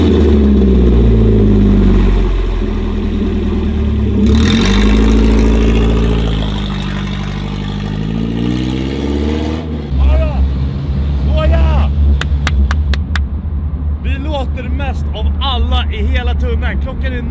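A car engine revs up and pulls away as driving begins, a steady low drone rising and shifting in pitch, with people talking over it and brief music-like tones near the end.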